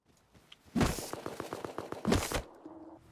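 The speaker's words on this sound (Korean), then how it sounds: "총소리가 들려도 그냥 무시하셈." Gunfire in a video game rattles out in two quick bursts of sharp repeated shots, loud and close against a quiet background, with a few faint clicks before and a soft tone after.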